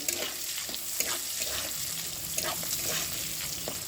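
Chopped onions fry in a pan for a prawn pulao, giving a steady, even sizzle with occasional soft scrapes of stirring throughout.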